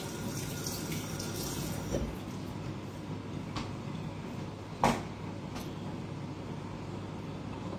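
Dishes washed under a running kitchen tap: a steady rush of water with soft clinks and a sharper knock of crockery, heard close and alone without talking.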